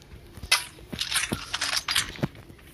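Gunfire in the mobile battle game Garena Free Fire, sharp cracking shots in an irregular burst of several close, snappy reports with faint mechanical clicks between them.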